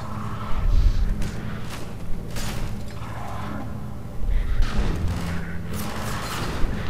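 Gunfire in Half-Life 2: Episode, aimed at a glass elevator: a run of booming shots and bursts, some heavy and some lighter, spread irregularly over a constant mechanical hum, with no one talking.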